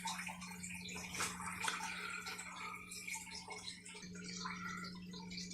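Water pours steadily into a frog aquarium during a water change, a continuous close splashing and trickling with a faint hum underneath and no talk.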